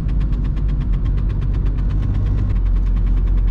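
A VW Golf 3 1.9 TDI diesel with 90 HP drives on a rainy road, its engine giving a loud, steady low drone with a rapid knocking pulse, heard from inside the car with no talking.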